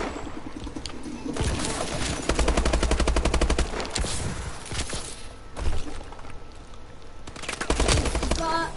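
Machine gun fire in Call of Duty: Advanced Warfare rattles out in rapid, loud bursts of dense repeated shots, broken by short pauses, with game sound effects around it.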